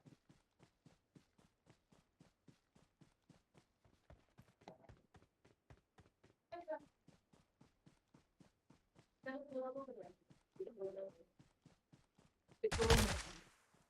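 Gunfire in the battle royale game PUBG, a long run of regularly spaced, faint shots with a louder burst near the end, while players talk over it at several points.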